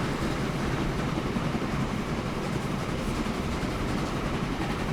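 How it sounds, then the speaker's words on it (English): Train in the Train Fever game running along rails, a dense, continuous rumble and clatter of wheels heard up close and steady throughout, without speech. "the sound sounds like it's going faster than what the train is"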